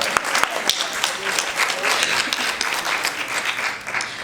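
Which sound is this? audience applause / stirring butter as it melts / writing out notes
audience applause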